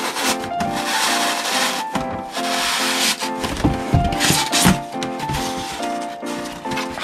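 A knife cuts an opening in a DIY cat house, giving close, irregular scraping and sawing strokes with soft knocks, fairly loud and continuous with no talking.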